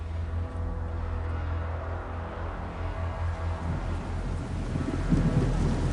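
Steady rain hisses down without pause, with low rumbling that suggests distant thunder and a swell of louder noise near the end, used as an audiobook sound effect.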